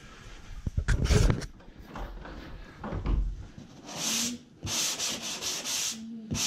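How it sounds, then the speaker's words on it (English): Abrasive scratchy rubbing of a green 3M sanding sponge against drywall, in a series of back-and-forth strokes, close by and moderately quiet. "See me sanding the wall with here is a green 3M sanding sponge."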